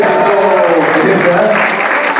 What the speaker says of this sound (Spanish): un aplauso para mi ingeniero